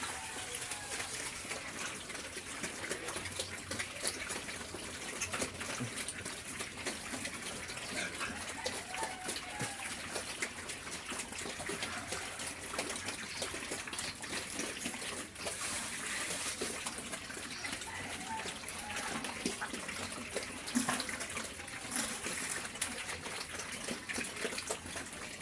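Water runs steadily into a pig feeding trough on a farm after the pigs have eaten, a continuous trickling gush lasting throughout with faint farmyard noise around it.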